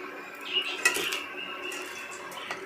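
Fried rosh bora are lifted out of hot oil with a metal utensil, giving a few light clinks and scrapes against the pan over a faint, steady background hiss.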